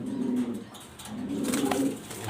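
Shading (jorna) pigeons coo in two drawn-out, moderately loud rolling calls close by, with a faint clatter in the background.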